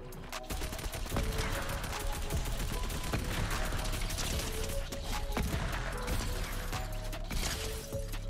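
Dense, continuous gunfire in the Fortnite video game, with shotgun blasts among repeated shots and mechanical clatter in a busy firefight, loud throughout with no talk.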